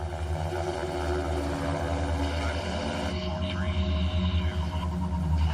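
Military helicopter holding a steady hover, a loud continuous rotor and engine drone with a thudding blade rhythm, close and unbroken throughout.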